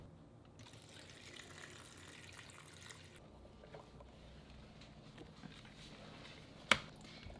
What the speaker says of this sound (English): And the last thing I'm gonna add is water.